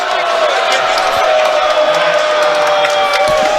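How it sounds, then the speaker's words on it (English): A basketball crowd in a gym roars and shouts in protest over a foul call, a loud, sustained mass of voices with scattered yells, continuous throughout. "The crowd doesn't like that one, Rami, but it was probably the right call"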